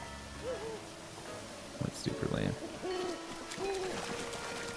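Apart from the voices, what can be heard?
bird hooting in video game Zelda: Breath of the Wild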